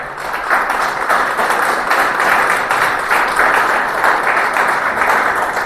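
Congregation applause during a church sermon, a dense, steady, loud wash of many hands clapping that holds evenly for several seconds without a break.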